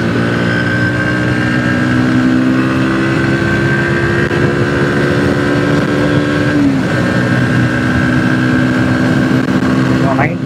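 A Bajaj Pulsar NS 125 motorcycle revs hard through its gears near 7000–8000 RPM, a loud, steady engine whine rising in pitch with a brief dip at a shift, alongside wind rush.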